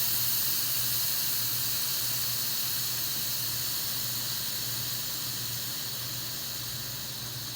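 An Instant Pot electric pressure cooker vents steam through its release valve, a loud, continuous broadband hiss that stays steady and fades only slightly over several seconds.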